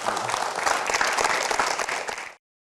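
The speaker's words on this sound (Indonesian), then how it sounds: "Siap, kita berikan aplaus sekali lagi." Studio audience applause on an Indonesian television talk show, a dense burst of clapping from a crowd that carries on steadily for about two seconds and then stops abruptly.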